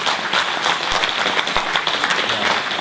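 Dense, steady applause from an audience at a company pre-launch event in London, with many hands clapping together in a continuous roar that fills the room.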